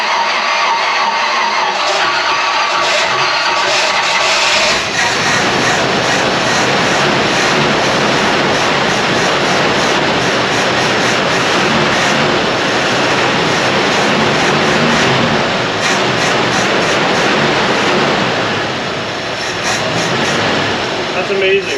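A rare 1955 Chevrolet Nomad engine, abandoned in storage for 40 years, starts up after a brief cranking and then runs with a loud, steady roar close by, while people talk over it.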